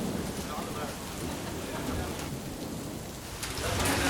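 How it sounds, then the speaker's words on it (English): Rain pouring steadily at a bike race track, a dense continuous hiss of drops on surfaces, loud and unbroken, swelling slightly toward the end. "the rains came in."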